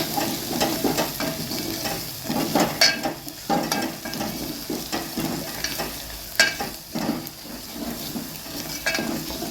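Masala with turmeric and red chili powder being stirred and fried in a pan for shevga drumstick bhaji, with a steady close sizzle and repeated scraping strokes of a spatula against the pan, no talking.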